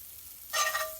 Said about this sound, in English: We've got our pan on a medium to low heat. And we just want to throw a little butter on there.